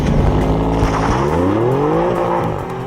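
Alfa Romeo Giulia Quadrifoglio with a twin-turbo engine on a wet race track, loud and close, its engine note rising and shifting through gears as it accelerates, with faint tyre hiss underneath.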